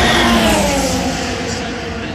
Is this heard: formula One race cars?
yes